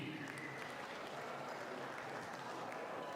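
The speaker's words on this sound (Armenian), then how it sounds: "հարևանների մի հատ բարձր ծափարենք" Wedding guests give the neighbours a dense, continuous round of applause, spread across the room and fairly faint, with voices mixed into the clapping.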